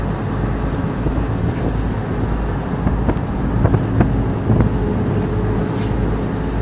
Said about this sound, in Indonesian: Sekarang angin kencang dari arah timur sana.